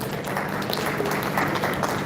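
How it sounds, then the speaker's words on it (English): Brief, steady applause from an audience at a live panel session, a short wash of clapping with no talk over it. "please have a big round of applause for their contribution"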